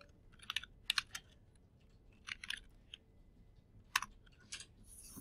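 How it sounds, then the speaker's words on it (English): Computer keyboard typing during a slideshow lesson: quiet clusters of key clicks in short bursts separated by pauses, faint and close. "Start typing emergency care."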